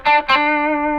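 An electric guitar through a boost and Klon-style overdrive plays two quick, punchy notes and then a loud, close sustained note that rings out smoothly for the rest of the second.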